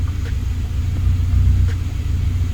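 A K-swapped EG Civic with a Skunk2 exhaust idles close by, a deep steady low rumble with a slight wavering pulse and no voices.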